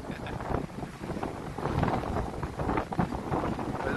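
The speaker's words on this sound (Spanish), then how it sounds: "ya empezó el airecillo, un poquito a arreciar" Wind rising ahead of a heavy downpour in Boca del Río, a steady broadband rush with buffeting against the microphone that holds loud and continuous throughout, with no speech.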